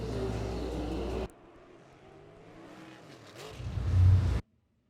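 POWRi WAR sprint cars roar down the front straightaway at Valley Speedway during green-flag racing, a loud engine burst cutting off, then a distant drone building to a near, booming pass before ending abruptly.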